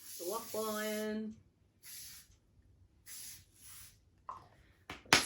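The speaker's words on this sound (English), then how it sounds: "Just gonna spray the waffle iron" Coconut oil cooking spray sprayed onto a waffle iron in a home kitchen, several short close hissing bursts separated by pauses, with a person talking briefly at the start and a knock near the end.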